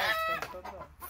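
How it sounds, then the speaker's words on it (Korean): Alarmed chickens cluck and squawk agitatedly and fairly close on a Korean farm, a noisy continuous flurry of calls filling the moment. "그 닭들도 또 난리 났네"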